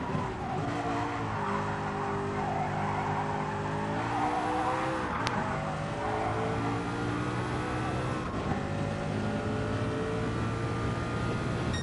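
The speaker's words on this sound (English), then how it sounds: "full throttle from here, brake" A race car in Gran Turismo Sport runs at full throttle, its engine note climbing and shifting through gears in long harmonic sweeps, loud and continuous with brief tire skids and a couple of sharp clicks.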